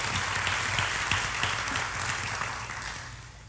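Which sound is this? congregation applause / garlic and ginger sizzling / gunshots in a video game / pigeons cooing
congregation applause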